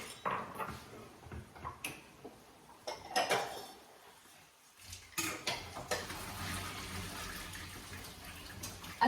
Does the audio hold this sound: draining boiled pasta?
yes